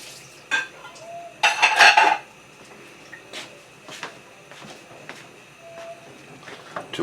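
Vegetables cooking in a pan for pineapple chicken curry, with a low steady sizzle, a louder burst of metallic stirring and clatter early on, then scattered utensil clinks against the pan, close and without speech.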